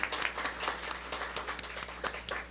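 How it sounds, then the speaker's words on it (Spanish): Audience applause at the closing ceremony of an international history congress, a steady patter of many hands clapping for the full stretch at moderate level, with no one talking over it. "le brindamos un fuerte voto de aplauso"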